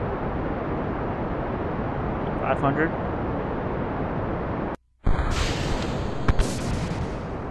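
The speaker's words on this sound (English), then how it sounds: "Stage had a little explosion there" A rocket stage explodes during flight in the Kerbal Space Program video game, heard as loud booming bursts over a constant roaring engine drone, with a brief dropout and a few sharp cracks toward the end.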